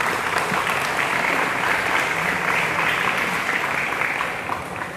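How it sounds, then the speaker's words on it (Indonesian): Sustained applause from a crowd gathered at a school event with students, dense and even clapping that holds steady for several seconds before easing slightly. "Tepuk tangan dulu."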